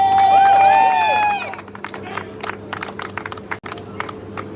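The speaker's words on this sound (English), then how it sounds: "please give a round of applause for the last speaker." Crowd at a city hall veterans' rally claps and cheers for a Navy veteran speaker; whistles and voices ring out loudly at first, then scattered claps continue more sparsely beneath murmuring.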